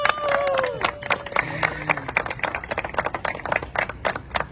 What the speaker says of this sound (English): just a round of applause for the cop